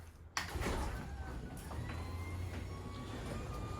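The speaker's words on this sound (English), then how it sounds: "let's see what happens when we open up the garage door" A modern retractable garage door opens with a sudden clunk, then a steady low mechanical rumble and hum from the motor and rolling door, continuing close by without talk.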